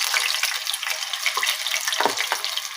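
Pieces of elephant foot yam kebab drop into hot oil in a home kitchen, a dense, close sizzle and crackle that swells as each piece goes in.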